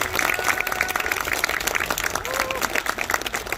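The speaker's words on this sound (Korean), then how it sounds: "다시 한번 큰 박수를 부탁드립니다" Steady applause from a crowd fills the whole stretch, dense and continuous, with faint voices underneath.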